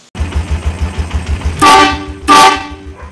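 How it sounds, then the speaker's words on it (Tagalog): Horn of a Yamaha TMX125 Alpha motorcycle converted to 150cc, sounding two loud, close blasts over the steady putter of the idling single-cylinder engine. "Napakalakas ng busina nito mga bro."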